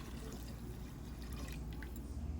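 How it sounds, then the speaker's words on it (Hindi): Water poured into a pot of soaked lentils for soup, a soft, faint steady trickle and splash that runs continuously for a couple of seconds. "आपकी मर्ज़ी है कि आपने 4 कप पानी डालना है या 6 कप पानी डालना है।"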